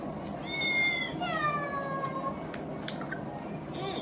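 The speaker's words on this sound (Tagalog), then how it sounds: "Cat." A cat meows several times, drawn-out and close, over a steady background hiss.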